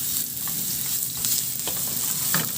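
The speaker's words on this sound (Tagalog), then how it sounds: "Sa disim na kawali, igisa ko na rin yung bawang." Garlic sautéing in a hot pan, giving a steady, close, dense sizzle throughout with a few faint stirring scrapes and no voices.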